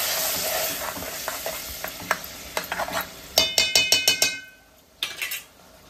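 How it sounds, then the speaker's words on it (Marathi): Mutton stirred into onion-tomato paste in a pan: soft sizzling with a run of rhythmic spoon scrapes and clinks against the metal, close and fairly loud, then a brief pause and a few more strokes. "मटण टाकायचं, चांगलं हलवायचं असं"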